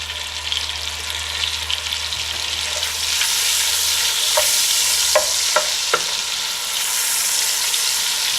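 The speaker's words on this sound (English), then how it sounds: "I'm just going to cook this diced steak in probably 3 or 4 batches" Diced steak browning in hot oil and butter, a strong sizzle that swells louder partway through, with a few clinks and scrapes of a utensil in the pan.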